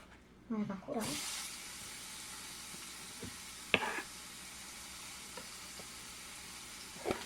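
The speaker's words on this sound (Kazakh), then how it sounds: "Майға қуырамыз." Garlic, grated on a large grater, fries in oil in a pan, a soft steady sizzle after an initial burst as it hits the fat, with a few faint clinks and stirs.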